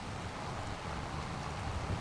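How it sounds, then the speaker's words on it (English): Steady, soft rain falls in the farming game Farming Simulator 25, an even patter with a low rumble underneath and no other sounds. "And as you can see, it's still raining"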